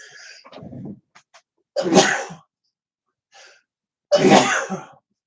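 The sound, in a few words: sneeze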